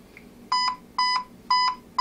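A small speaker on a T.A.P.S app motion-detector device gives four short, clear electronic beeps, each a quick double pulse, repeating evenly at about half-second gaps, close up and alone.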